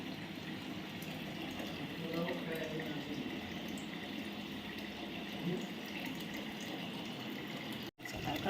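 Tap water runs steadily while sabudana is rinsed, a continuous splashing gush with faint handling noises underneath and a brief cut near the end.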